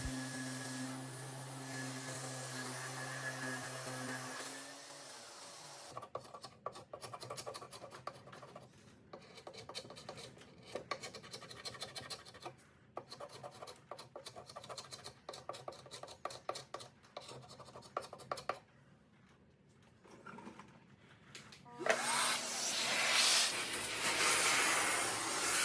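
Hand sanding of wood veneer drawer fronts on a mid-century dresser, a sustained raspy scratching with rhythmic back-and-forth strokes, close and steady, pausing briefly before a louder rush of machine-like hiss near the end.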